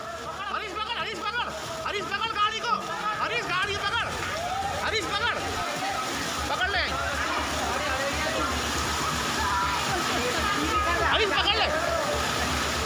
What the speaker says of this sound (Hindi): दोनों तरफ दुकानें, बीच में संकरी गली, लेकिन पानी का बहाव इतना तेज कि स्कूटी बहने लगी।